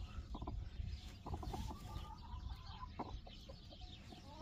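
A hen clucks repeatedly among farm birds at an animal pen where chicks are hatching, short soft clucks scattered over a steady noisy background, fairly quiet and close.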